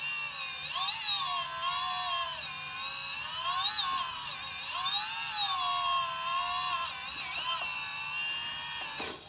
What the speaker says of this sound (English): the more input you give, the faster the pump raises or speeds up.